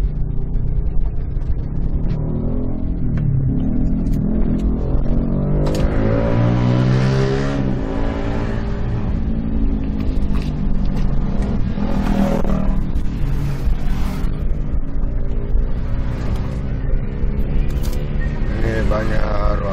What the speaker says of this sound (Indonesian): Di sini juga ramai kendaraan-kendaraan, apalagi kendaraan besar, mobil-mobil truk.